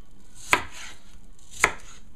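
A kitchen contraption works an apple with two sharp, crisp crunching cuts about a second apart, close and clear against an otherwise quiet room.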